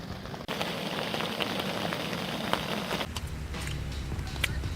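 Steady rain drums on a tent in foggy spring backcountry, a dense continuous patter heard from inside, with a few sharper drops standing out and a slight shift in tone partway through.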